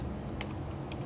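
A few scattered keystrokes on a computer keyboard, light clicks spaced irregularly over a steady background hiss, fairly quiet and with no talking.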